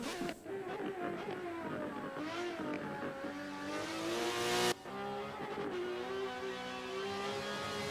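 A race car engine in the V8X racing game on the Bathurst circuit revs and climbs through the gears, loud and close, with tonal whine rising and a sharp shift cut midway.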